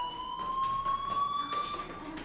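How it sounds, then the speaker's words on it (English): A fire alarm in the Life is Strange video game rings continuously with a high, steady electronic tone that holds unbroken at moderate loudness. "Hey, do you hear that fire alarm?"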